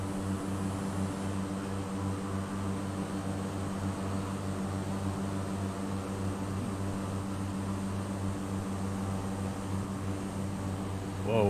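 A steady, continuous airplane engine drone from Microsoft Flight Simulator holds level for the whole stretch, with a rich low hum and a faint high whine and no voices.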